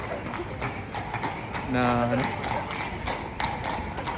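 Horse hooves clip-clop during horseback riding in Copenhagen, a steady rhythm of knocks under nearby talking, with a brief tonal whinny-like sound partway through.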